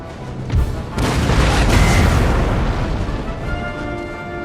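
Total War Empire line infantry let off musket volleys in loud booming bursts, one sharp crack followed by a longer rolling barrage that thunders and slowly fades, with no talking.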